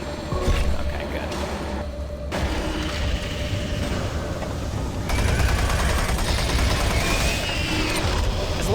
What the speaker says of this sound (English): As long as you start unloading a full clip into the imps with the assault rifle